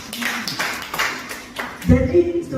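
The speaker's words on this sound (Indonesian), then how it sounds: "Tepuk tangan buat Tuhan Yesus." A church congregation clapping during a Sunday service, a short run of claps under a speaker's voice, ending in a brief ringing tone.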